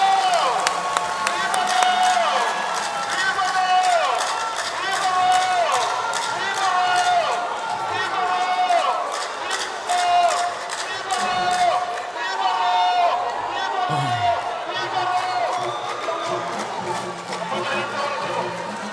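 A large crowd at the NPP party manifesto launch applauds and cheers for the party leader. The dense clapping and shouting run continuously, with wavering horn-like tones and voices mixed in.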